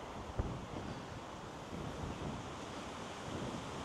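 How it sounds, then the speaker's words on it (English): Wind gusts steadily past a microphone on a very windy day at a car park entrance to Dartmouth Park in West Bromwich. The rumbling, blustery noise is continuous, with one brief thump near the start. "It's a very windy day today"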